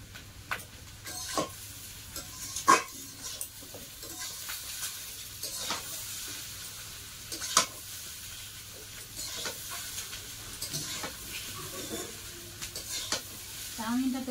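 Chow mein stirs and fries in a pan with a soft, steady sizzle, broken by occasional scrapes and clinks of the utensil against the pan at close range.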